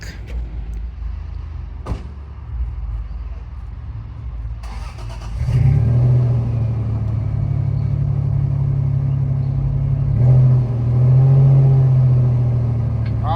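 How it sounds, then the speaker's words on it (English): A truck engine starts and runs at a steady idle, then revs to pull a 1969 Lincoln Continental back with a chain, a loud low rumble with a door thud early and a rise in revs later. "we're going to have to use a truck and a chain to pull it back"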